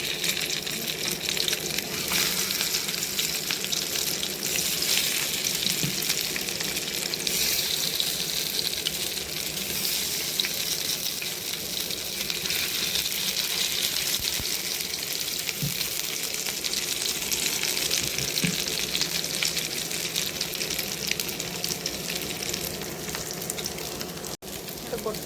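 Fish fritters fry in hot mustard oil in a pan, giving a steady, dense sizzle that holds at an even level throughout, close and continuous with no talking.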